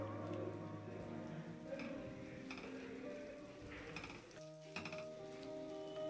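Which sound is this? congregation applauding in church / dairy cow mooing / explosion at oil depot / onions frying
onions frying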